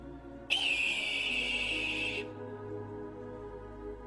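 A single shrill, high-pitched cry imitating a falcon, a sustained piercing whistle-like tone lasting about two seconds over a faint low background hum.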